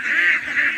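Ducks honk and quack on a duck farm, a short loud nasal cluster of overlapping calls close by with no talk.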